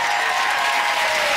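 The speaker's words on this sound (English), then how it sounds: "a big round of applause for our" A studio audience on a comedy panel show breaks into dense, even applause, loud and sustained with no pauses.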